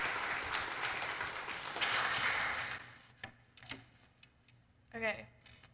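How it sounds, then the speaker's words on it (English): A church congregation claps on a Sunday morning as two speakers come up, a dense steady applause for about three seconds that then thins into a few scattered claps and brief voices. "give them both a little hand clap as they come up and share with us this morning"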